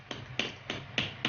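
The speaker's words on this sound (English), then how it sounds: "use your hammer" A hammer strikes a metal handle fitting on the edge of a handmade Ankara fabric ball bag, four sharp, evenly spaced knocks, close and clear with no talk.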